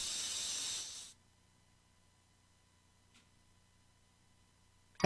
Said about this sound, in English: Akmodan 2 dries up and blows away in the wind.